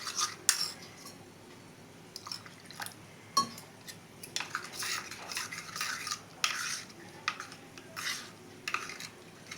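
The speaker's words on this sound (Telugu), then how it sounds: "శనగపిండి ఇట్లా గుల్లాలు లేకుండా, గడ్డలు లేకుండా నీట్గా అంతా కలిపి శుభ్రంగా బాగా" A spoon stirs gram flour batter in a pot for okra stew, irregular scraping clinks and soft wet swishes coming close and intermittent, with no talking.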